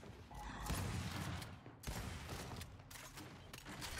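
Dense rapid gunfire in a competitive online shooter wager match, overlapping bursts of shots close and loud across the whole stretch with brief dips between volleys.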